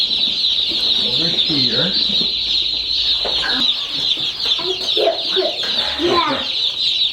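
A box full of baby chicks cheeps loudly and constantly, a dense high-pitched chorus close up, with a person talking over it.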